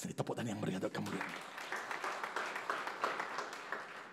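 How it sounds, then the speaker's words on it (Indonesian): A church congregation claps during a sermon, the applause rising after a voice and continuing as a dense patter at moderate distance to the end. "Tepuk tangan yang meriah untuk kemuliaan."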